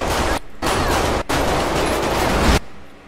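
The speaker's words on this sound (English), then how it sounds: "More shots fired, 9240." Several gunshots in a gang shootout, loud dense bursts of fire in a few long blasts separated by short gaps, close and harsh with no talk over them.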